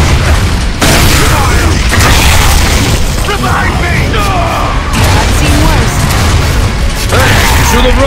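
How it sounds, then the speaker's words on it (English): Mortar explosions in Gears of War Judgment, very loud repeated booms and crashing blasts over continuous mechanical clatter and combat noise, several sharp onsets spaced a second or two apart, with voices shouting amid the chaos. "Mortars! The grubs are gonna flatten that house if we don't stop them!"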